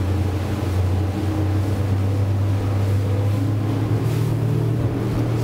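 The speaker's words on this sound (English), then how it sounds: "So those 600s are starting to roar. You can feel the hum." Twin 600HP V12 Mercury outboard engines on a motor boat roar in a steady, deep, loud drone as the throttle moves forward, with water rushing along the hull, and no talking.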